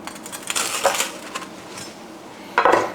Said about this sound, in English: So let's slice it diagonally down the middle